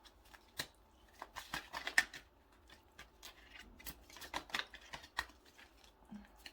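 Tarot cards being shuffled and drawn for a reading, a quiet run of soft riffles, snaps and card slaps in irregular bursts, close to the mic with no talking.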